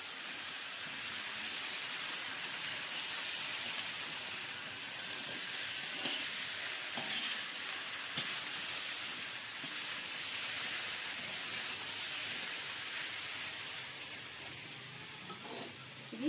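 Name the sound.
potatoes frying in a pan (aloo fry)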